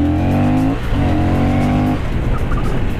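A Honda CB750 Hornet motorcycle is ridden at full throttle on a track in Ramkhamhaeng. The engine is loud and close, rising sharply in pitch, dropping briefly at a gear change, then climbing again.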